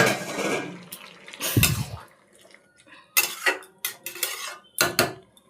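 Crumbled fried egg being stirred into cooked bottle gourd in a pot for an egg-and-lau curry, with a utensil scraping and clinking against the metal in several sharp, close bursts separated by quieter pauses.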